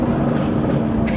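A deep, steady engine rumble from the exhaust of a BMW M240i with its resonator deleted, low and continuous throughout, with some wind noise over the top.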